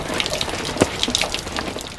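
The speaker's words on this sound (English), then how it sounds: "And then you just let the water drain out." Water drains out of a Truma water heater in a 2023 Alliance Avenue RV as a steady, close gushing flow with small splashes and drips on top, with no voices.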